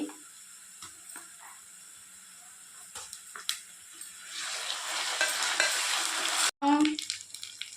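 Onions and ginger paste frying in a pan while stirred, the sizzle swelling louder and brighter as scraping strokes continue, with a brief break near the end before a spoon clatters.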